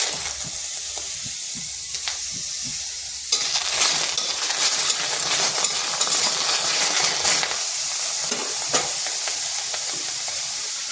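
Tomatoes dropped into a hot pan while cooking aloo posto, giving a loud, steady sizzle with bursts of frying hiss and stirring scrapes throughout.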